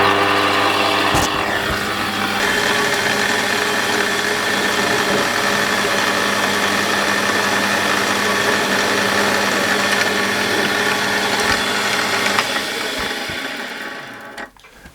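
A lathe machining a transmission part, a steady, dense whirring cut that runs continuously at close range before winding down at the end, with no voices.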